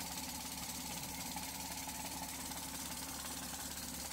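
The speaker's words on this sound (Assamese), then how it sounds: "গাড়ী ষ্টাৰ্ট হৈ আছে।" A Maruti Alto 800 car, about one and a half years old, idles with its engine running. The hum is close, steady and even, with a faint rhythmic knock and no talking.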